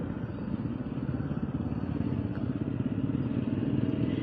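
A TVS RTX 300 motorcycle rides along with a steady, close engine drone and rumbling wind noise that holds level throughout, with no talk over it.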